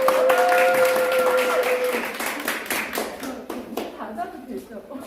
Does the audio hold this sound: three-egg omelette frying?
no